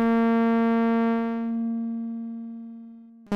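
A bright, buzzy sawtooth tone from the CubuSynth Arkarion synthesizer VCO, with many strong harmonics, drones steadily, mellowing partway through before cutting off abruptly.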